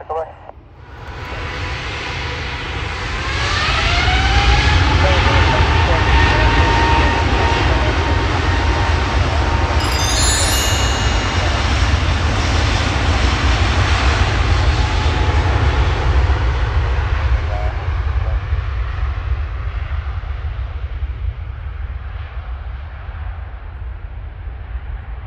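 Jet airliner engines roar at Manchester airport, swelling from a whine into a loud, sustained rumbling roar that holds for most of the stretch before slowly easing, with faint voices beneath.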